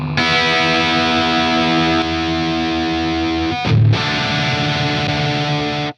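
An electric guitar plays through a Brunetti Pleximan amplifier switchable between 50 and 5 watts, giving a loud, sustained, distorted chord that rings out, then a brief break and a second heavy strummed chord that sustains until an abrupt cutoff.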